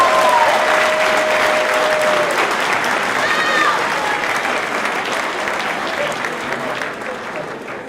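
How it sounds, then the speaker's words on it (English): Sustained assembly applause for honor roll students at Fort Vancouver High School, a dense steady roar of many hands with a few whistles near the start that eases off slightly toward the end. "A round of applause."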